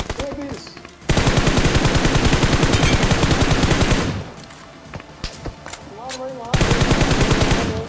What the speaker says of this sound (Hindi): और ये देखो फायर आया।